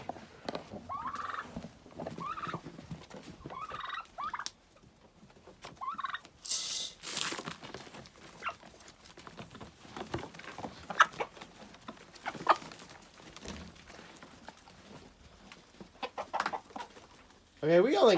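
Backyard flock of chickens and turkeys on a snowy Appalachian mountain homestead in winter, with repeated turkey gobbles and scattered clucks at varying distances, some calls loud and near, amid faint background noise.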